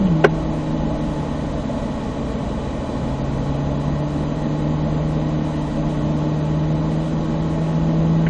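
Steady mid-pitched car engine drone holding third gear on a race track, continuous and fairly loud for the whole stretch with a slight brief click near the start, no talk.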